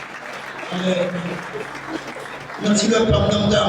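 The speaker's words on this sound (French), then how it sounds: "Applaudis le Seigneur" A church congregation claps at a Pentecostal church anniversary service, with the applause mixed under a voice and music and growing louder near the end.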